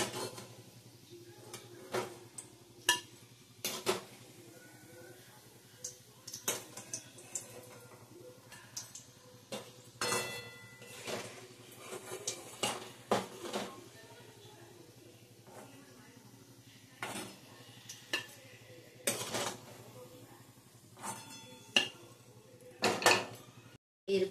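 Fried balls lifted out of a pan with metal utensils, a series of sharp clinks and taps of metal on metal at an irregular pace, close and fairly quiet.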